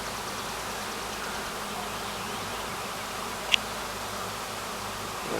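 A honeybee swarm flying in the open air, a steady, dense buzzing hum that fills the whole stretch evenly, with one brief sharp tick partway through.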